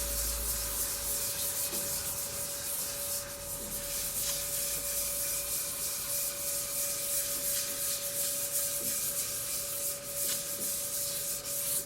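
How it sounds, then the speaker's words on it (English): Steady, continuous rubbing of light sanding on a camphor wood turned hollow form between lacquer coats, a soft even abrasive hiss running throughout at close range with a faint constant hum beneath. "This is just breaking up the surface a little bit for the next coat of lacquer."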